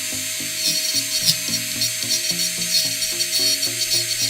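A high-speed rotary carving tool cuts into wood at full speed, about 38,000 RPM, a steady high whine under regular rasping strokes that repeat roughly every quarter second, close and loud, no talk.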